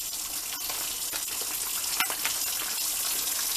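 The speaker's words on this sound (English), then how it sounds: "I add some water." Water poured into a pot of chili with beans, a steady hissing splash sustained for several seconds, close and alone.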